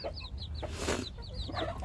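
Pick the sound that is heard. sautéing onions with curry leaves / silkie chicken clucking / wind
silkie chicken clucking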